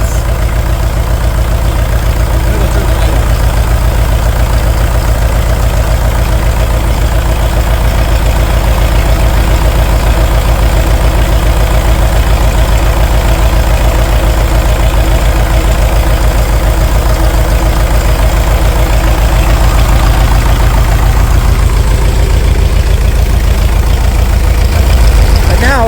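An International TD-6 engine, once seized and now revived on gasoline, idles loudly and steadily with a heavy low knocking drone throughout, a rougher stumble creeping in near the end.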